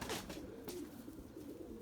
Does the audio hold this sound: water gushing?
no